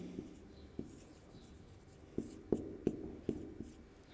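A grammar rule on French spelling is written out by hand. Faint, scattered scratches and taps of the writing tool come through in the quiet, some isolated and some in a quicker cluster.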